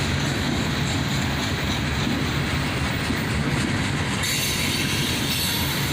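Loaded coal wagons behind three locomotives (ES44ACH, AC44CW, ET44AH) roll southbound close by in a dense, unbroken rumble, with wheel squeal and rhythmic clicks over the rails.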